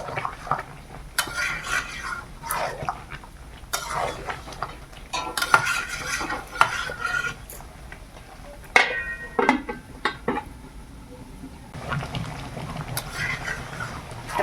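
Tender bottle gourd leaves fry in a pan, with a spatula scraping and clinking against the metal in irregular bursts over a faint sizzle, in a village kitchen.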